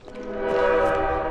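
A train horn in the video game Bendy and the Dark Revival blares as one loud, sustained, harmonically rich tone that swells and holds for over a second.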